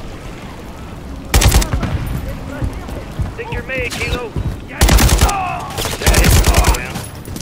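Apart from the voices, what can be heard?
gunfire from enemy gunners in video game Call of Duty: Modern Warfare 3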